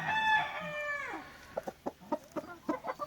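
A gamefowl rooster in a breeding-season yard gives one clear crow, followed by a run of short, close clucks in an uneven rhythm.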